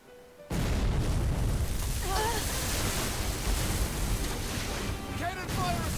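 Heavy cannon fire from a pirate ship at sea in Tales of Berseria, a sudden loud boom giving way to a dense roaring rumble of blasts and churning water that persists throughout, with faint whistling streaks overhead.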